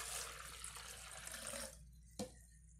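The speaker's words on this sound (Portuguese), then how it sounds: "eu vou colocar 370 ml de água" Plain room-temperature water pours into a blender jar in a home kitchen, a soft hissing stream that stops after under two seconds, followed by a single small knock.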